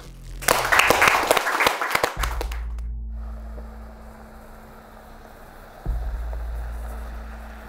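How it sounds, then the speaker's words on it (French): A group applauds outdoors at night during a physical challenge, a burst of loud clapping for about two seconds that quickly dies away, leaving a low steady engine hum in the background. "Et on peut s'applaudir"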